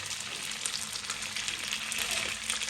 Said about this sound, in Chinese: 把排骨一个一个的放入锅中，排骨放入锅中煎一下，